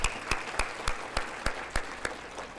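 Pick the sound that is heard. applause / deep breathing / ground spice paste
applause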